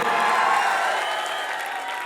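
Audience at a college festival applauding a guest student from MCC college, a steady dense wash of clapping and crowd noise lasting throughout, fairly loud and even.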